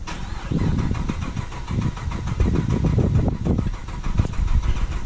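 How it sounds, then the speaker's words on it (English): A car engine cold-starting on a chilly day, cranking briefly then catching into a loud, rough, uneven idle with knocking pulses close to the microphone. "let me give you guys a cold start"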